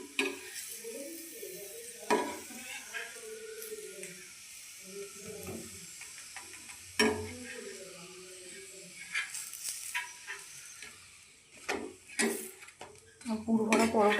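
A radish-stuffed paratha fries in a pan with a soft sizzle, set among clinks and scrapes of a utensil against cookware, while a person talks intermittently over it.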